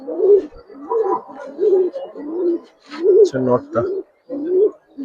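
Silver bagha and coloring pigeons cooing in a loft, a steady run of soft, repeated throaty coos close by, with a brief voice speaking partway through.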